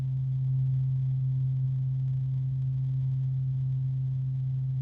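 A Lenovo P14s laptop fan drones with a constant, pure-toned whine, a little higher and louder than before, holding steady and unbroken with nothing else heard.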